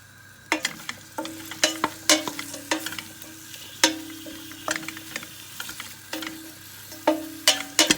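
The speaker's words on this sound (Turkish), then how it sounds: "Şimdi onları güzelce önden biraz kavuracağım." Seven or eight cloves of garlic frying in a tea glass of olive oil, a low steady sizzle broken by repeated sharp spoon knocks and scrapes against the pan.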